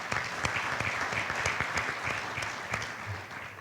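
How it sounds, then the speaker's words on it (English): Audience applause at a college alumni awards ceremony, a steady patter of clapping in a hall with a few sharper nearby claps, moderate and continuous. "Let's please give them a round of applause."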